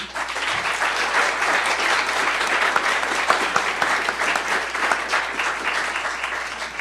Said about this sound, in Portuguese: Um salve de palmas, por favor.